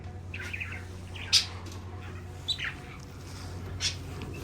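Pet birds chirp indoors in an apartment, with a few short, bright calls spaced apart over a steady low household hum and no talking.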